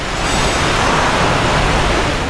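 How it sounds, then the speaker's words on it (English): Loud waterfall in the Dark Souls 2 video game, a dense unbroken roar of rushing water that fills the whole sound, steady and close with no pauses. "it's really loud here with that waterfall"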